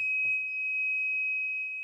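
A continuous high-pitched tone from an Arduino-driven active buzzer holds steady throughout, with a couple of faint soft knocks in the background.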